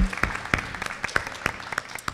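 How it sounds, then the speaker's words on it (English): An audience claps at a museum's 30th anniversary celebration during an artist and curator conversation: moderate, fairly sparse applause with distinct individual claps, heard alone. "I think that deserves a round of applause"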